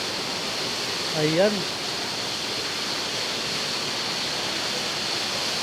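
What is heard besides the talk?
Busay waterfall flowing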